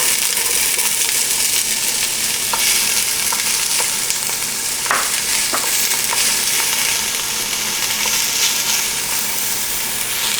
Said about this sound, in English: add some olive oil to this pan. And I'm going to saute some onions first